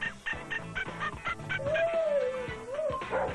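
Interactive Poochie toy robot dogs make electronic yips and barks in a rapid, rhythmic pattern, then give a wavering, sliding sung tone, close and clear over a busy background.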